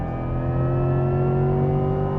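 A 2025 Chevrolet Corvette engine, E-Ray or Z06, revs hard on a race track, a loud, steady close-up drone with strong rising harmonics and no pause.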